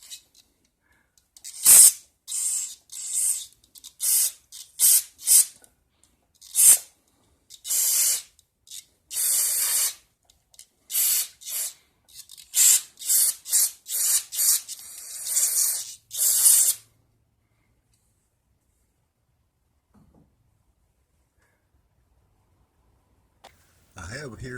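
Short bursts of NAPA parts cleaner sprayed onto a motor shaft and bearing of a 1966 Rheem Califone 1450 record player, a dozen or so close hissing spurts of varied length, then near silence.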